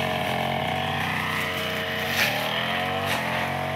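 A brush cutter clearing undergrowth on a cashew farm drones with a steady, buzzing motor whine that rises briefly in pitch a couple of times, loud and close with no talking.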